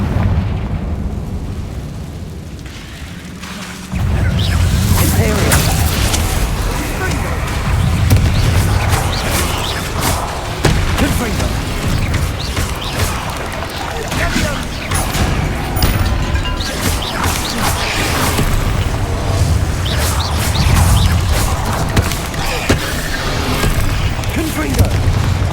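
Repeated Confringo blasting-spell explosions in the video game Hogwarts Legacy boom almost continuously through a dense, loud combat mix. A voice speaks over the blasts at times.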